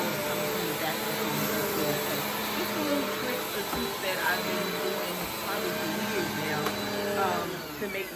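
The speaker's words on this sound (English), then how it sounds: "So when you vacuum, not only are you getting a scent from the booster scent, but you're also getting a scent from the essential oils coming from the vacuum." A vacuum cleaner runs steadily indoors during home cleaning, a loud continuous motor whine and airflow roar with a high-pitched tone sustained throughout, with no pauses.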